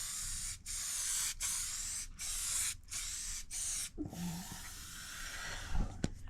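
Spray paint hisses from an aerosol can onto Honda CB750 F1 side panels in a garage, in about six short bursts with brief gaps, fairly close, followed by quieter handling noises.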